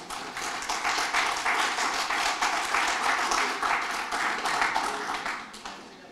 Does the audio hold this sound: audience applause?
yes